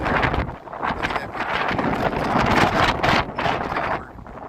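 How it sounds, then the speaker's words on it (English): Strong gusting wind buffets the microphone outdoors on a Chicago street near the Wrigley Building, a continuous loud roar with surging rises and falls and no voices. "It's pretty windy here"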